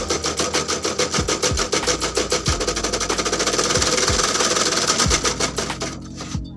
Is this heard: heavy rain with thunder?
no